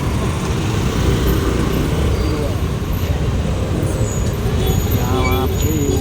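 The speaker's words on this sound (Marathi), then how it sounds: "इकडे पण ट्रॅफिक इकडे पण ट्रॅफिक." Dense, continuous traffic rumble on a crowded street near Bharati Vidyapeeth, loud and close, with engines droning and a few brake hisses and horn-like tones over the steady roar.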